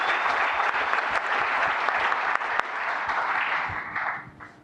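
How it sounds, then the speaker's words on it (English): Crowd applause at an event in a tech company's office, a thick, even wash of clapping that holds steady and then fades near the end. "Let's give her a round of applause."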